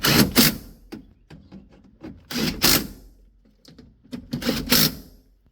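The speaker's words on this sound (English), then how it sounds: "We're going to tighten our 3 motor bolts." Three window motor bolts are tightened inside a 2002–2006 Honda CR-V door, heard as close, repeated bursts of tool ratcheting with short pauses between them.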